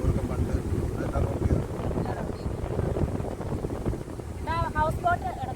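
A boat ride on the Kumarakom backwaters in Kerala: steady engine and wind rumble with water noise runs throughout, with people talking over it and some brief bird calls near the end.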